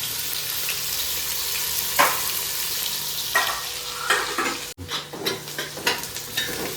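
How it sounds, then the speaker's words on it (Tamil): Onions sauté in a pan for mutton biryani, a steady close sizzle broken by scraping stirs and a few metal clinks toward the end. "வெங்காயம் வந்து நல்லா வதங்கிடுச்சு"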